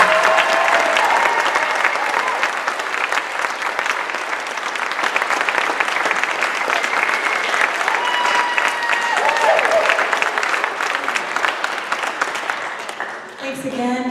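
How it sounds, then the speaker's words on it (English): An audience at a high school spring chorus concert claps steadily and loudly for the whole stretch, a dense sustained applause that fades slightly only at the very end. "More big round of applause."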